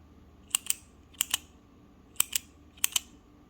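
Parker Jotter ballpoint pen clicking in four pairs, each a crisp double click, sharp and close with quiet gaps between.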